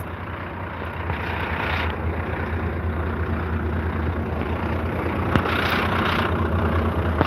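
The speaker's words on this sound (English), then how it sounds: "Volvo engine, it sounds nice, doesn't it?" A Volvo bus engine idles nearby outdoors by a beach promenade, a steady low rumble that holds constant throughout, with wind noise and a brief faint knock near the end.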